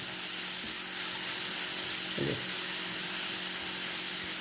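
Vegetables fry in a pan with garam masala, coriander powder and garlic for tawa pulao, a steady close hiss and sizzle with a brief stirring scrape partway through, no voices.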